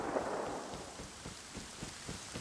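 Steady rain pattering in the Rust video game, a dense hiss with soft low rumbling, continuous and close, no voices.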